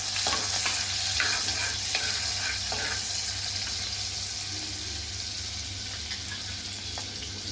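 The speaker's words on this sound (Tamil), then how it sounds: "இப்போ லவங்கம், பட்டை, ஏலை, பிரிஞ்சி இலை போட்டு" Whole spices (cloves, cinnamon, cardamom, bay leaf) sautéing in melted butter for butter chicken, a steady close sizzle with scattered crackles and stirring clicks early on, softening slightly toward the end.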